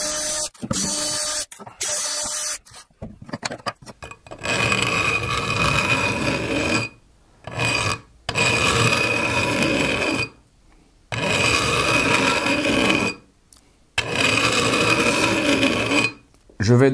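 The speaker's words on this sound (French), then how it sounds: "je vais simplement me servir de cette lime pour venir affleurer les pieds de frette" A metal file scraping along the fret ends of an SG Junior guitar neck, dressing them flush with the wood: repeated loud, rasping strokes in bursts separated by brief pauses, close up.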